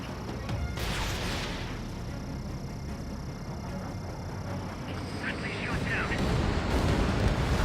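Explosion from an enemy bomber shot down in the air-combat game Ace Combat 7, a broad roaring rumble over continuous jet engine noise that swells louder toward the end, with a game radio voice heard at times.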